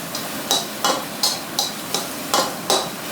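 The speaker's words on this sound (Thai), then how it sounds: "แค่กระเทียมกับพริก เราก็ผัดไปเรื่อยๆ" Garlic and chili are stir-fried in a pan, with regular scraping spatula strokes about every third of a second over a soft sizzle, close and unaccompanied by talk.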